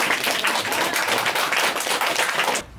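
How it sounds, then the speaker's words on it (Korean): A live audience claps for a guest being welcomed onstage at a Korean university admissions seminar, dense and steady for under three seconds before cutting off abruptly. "박수로"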